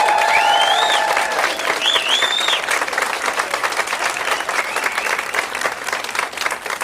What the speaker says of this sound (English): help me with a loud applause for Joe